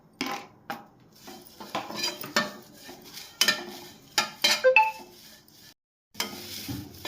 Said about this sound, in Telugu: దానిలో కరివేపాకు వేసి కొంచెం రోస్ట్ చేసుకోవాలన్నమాట